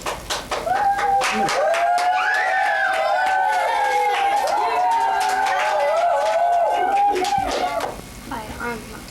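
Second-grade children in an elementary classroom in Nevada City clap in a quick burst at the start, then lively young voices chatter and call out over the room.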